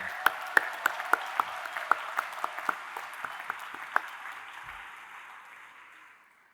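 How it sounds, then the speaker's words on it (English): Graduates and guests at a convocation ceremony applaud in a large hall, a broad wash of clapping with a few sharp nearby claps standing out, gradually fading away over several seconds. "give yourself a huge round of applause in which I join"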